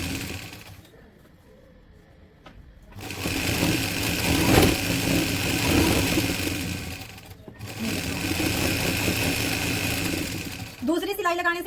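A sewing machine stitching salwar fabric, running in two long steady whirring bursts separated by a brief stop, close and loud, with someone speaking briefly at the end.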